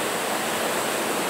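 Steady broadband rush of river water flowing into the Jaibaras reservoir near Sobral, Ceará, as the Acaraú river rises, a continuous close roar filling the short clip with no voices.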